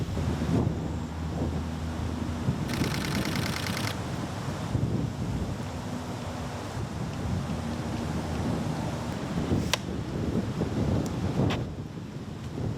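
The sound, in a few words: wind blowing outdoors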